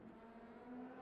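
A race car engine in the Le Mans Ultimate sim racing game, at Fuji, gives a steady, fairly quiet whir with a sustained mid-pitched tone that swells slightly toward the end, with no talk over it.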